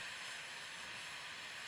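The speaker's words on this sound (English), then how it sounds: "Drill holes up to 3 kilometers deep tap into high-temperature water and steam that shoots up towards the Earth's surface with high pressure." High-pressure geothermal steam shoots from a drill hole up to 3 kilometers deep in Iceland, a steady, unbroken broadband hiss with no voices.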